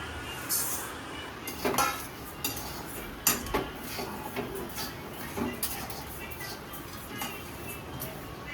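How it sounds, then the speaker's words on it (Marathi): Dry rice being roasted and stirred in a pan, with a spoon scraping and clinking against the metal in irregular bursts over a low, steady background. "आता तांदूळ भाजून घेऊया."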